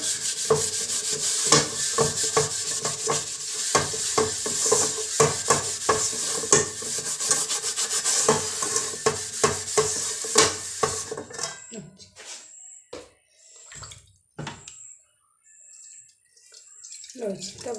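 Rapid, rhythmic scraping and rubbing of steel wool against a roti griddle with a little water, loud and continuous, then slowing to a few separate scrubs near the end.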